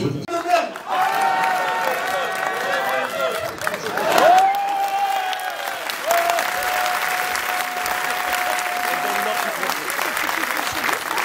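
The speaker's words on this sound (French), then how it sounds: "Mesdames et messieurs, je vous demande de les applaudir" An audience applauds steadily for about eleven seconds at a French-language event, with a sustained tone and voices running over the clapping throughout.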